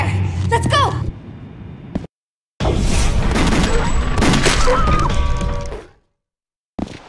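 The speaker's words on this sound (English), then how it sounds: "Gunshot!" Gunfire booms in Resident Evil: The Darkside Chronicles, loud and close, with sharp blasts, crashes and mechanical clatter broken by brief silent gaps.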